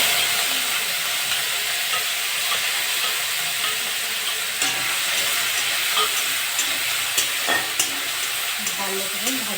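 Prawns fry in a pan with neem leaves and five-spice seeds, a loud close sizzle and hiss running throughout, with occasional scrapes and clinks of stirring toward the end.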